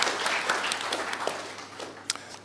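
Fairly faint applause from an audience at an internet summit, a soft spread of clapping that thins out over a couple of seconds, with a few distinct claps near the end.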